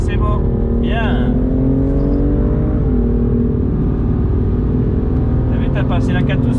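A BMW M2 CS on a race track accelerates at Castellet with a loud, steady engine drone and a rising then settling pitch, heard from inside the car while a voice speaks over it.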